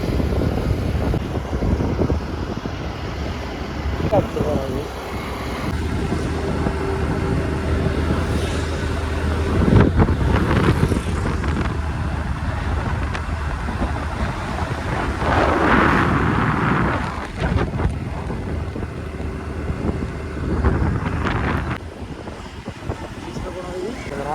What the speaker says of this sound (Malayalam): നല്ലപോലെ കാറ്റുണ്ട്